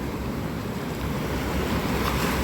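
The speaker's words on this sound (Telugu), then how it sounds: "ఇక్కడిక్కడే వచ్చేస్తున్నాయి అలలు" Steady roar of surf breaking on Kakinada beach on the Bay of Bengal during a storm, a continuous broadband wash with wind buffeting the microphone and no voices.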